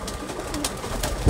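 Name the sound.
pigeons cooing, pigeon keeping in Sialkot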